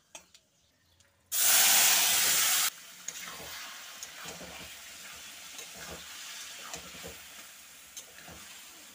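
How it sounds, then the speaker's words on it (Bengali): Chopped bottle gourd hits hot oil in a pan for a prawn and gourd curry, bursting into a loud, steady sizzling hiss for about a second and a half before settling into quieter frying crackle and stirring clicks. "তো এটা একটু লাল লাল করে ভেজে নেব। এবারে দিয়ে দিচ্ছি লাউটা।"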